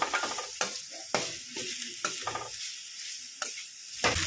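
Bottle gourd frying in hot ghee in a pan, with a steady sizzle broken by about eight scraping stirs of a spoon at a fairly even pace, close and clear, no talking.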